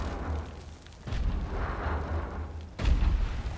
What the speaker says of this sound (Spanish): vamos a disparar